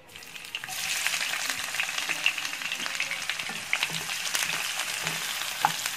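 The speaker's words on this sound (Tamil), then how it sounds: "இதை நம்ம பொரிச்சு எடுத்துக்கலாம்" A cup of onions sizzles and crackles steadily in hot oil, frying until brown for Burmese atho, a dense frying hiss that continues throughout with occasional pops and stirring.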